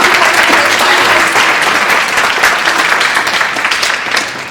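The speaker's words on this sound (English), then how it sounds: "Let's give another round of applause to the 13" Loud, sustained audience applause for the finalists of a speech competition, a dense wash of clapping that holds steady for several seconds and tapers slightly at the end.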